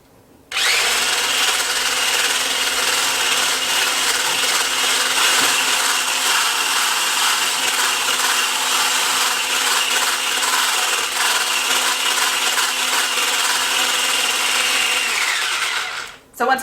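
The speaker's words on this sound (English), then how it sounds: "I'm going to do it by hand with my trusty little hand mixer" An electric hand mixer whirs steadily while beating cream cheese and powdered sugar, a loud continuous motor drone with a faint scraping texture that runs unbroken before cutting off abruptly.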